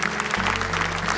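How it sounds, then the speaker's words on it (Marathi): A studio audience on a Marathi TV talk show claps loudly for a guest's stepfather, a brief, dense burst of applause over a low hum. "एकदा जोरदार टाळ्या बाबांसाठी"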